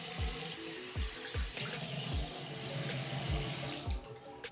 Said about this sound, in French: je vais juste mouiller mon visage un peu pour qu'il soit un petit peu humide